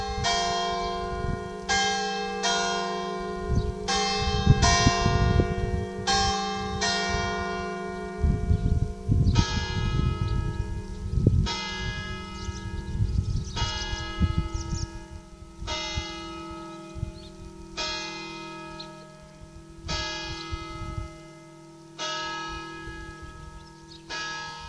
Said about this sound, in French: il va y avoir les trois cloches qui vont sonner